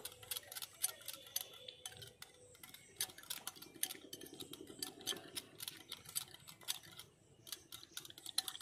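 Batter for doi fulki is whisked with black salt, making rapid, light tapping clicks in a steady, quick rhythm. The whisking is faint and close and continues throughout.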